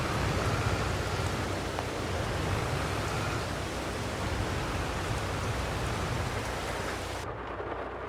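Steady rain in Farming Simulator 22 hisses as a dense, even broadband wash for the whole stretch, loud and continuous with no voices, easing slightly near the end.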